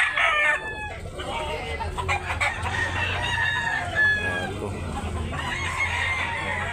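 A Gilmore bullstag gamefowl rooster crowing at a gamefowl seller's in Tabunok, Talisay, Cebu, a clear close crow standing over background chatter and other birds, with people talking nearby.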